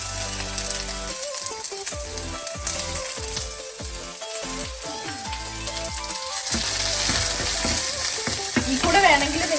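Mustard seeds for sambar sputter and pop in hot oil in a pan, giving a continuous close crackling sizzle that grows louder toward the end, with no talking.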